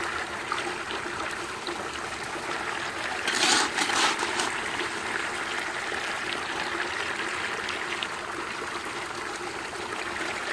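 Water rushes steadily through a gold sluice lined with a dream mat as gravel is fed in, a continuous close wash with a brief louder surge partway through.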